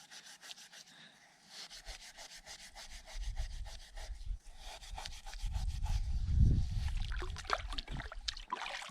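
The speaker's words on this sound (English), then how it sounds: "one of my favorite techniques rather, for cleaning stainless steel. Sand works good," Sand scrubbed against stainless steel outdoors, a gritty rubbing scrape that builds from quiet to a loud, continuous rasp with rhythmic strokes.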